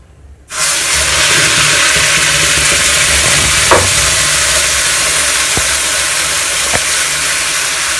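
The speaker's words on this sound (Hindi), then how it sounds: "अभी हमारा तेल गर्म हो गया है, तो इसमें हम डालेंगे प्याज का पेस्ट" Onion paste hitting hot oil for a Himachali-style rohu fish curry, a sudden loud sizzle that bursts in after a brief quiet and hisses steadily throughout, with a few faint clicks of stirring.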